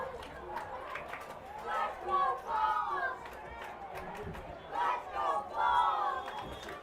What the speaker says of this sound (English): Crowd starting to try to spur their team on here